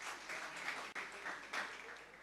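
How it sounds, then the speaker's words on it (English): A small audience at the Godrej Innovation Center in Mumbai claps for Siddharth, a brief round of close, even applause lasting a couple of seconds. "Let's clap for Siddharth."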